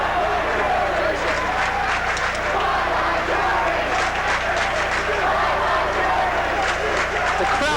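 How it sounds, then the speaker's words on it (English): A crowd at a high school hockey semifinal between West Haven and Prep roars and chants, loud and continuous, with cheering and clapping filling the arena. "The crowd chanting bye-bye Drury"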